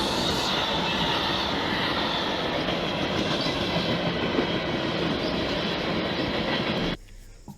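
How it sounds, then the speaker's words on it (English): An Amtrak Northeast Regional passenger train passes with a loud, steady roar and rail rumble for about seven seconds, then cuts off abruptly. No one talks. "There is also a Northeast Regional Cafe car on this train."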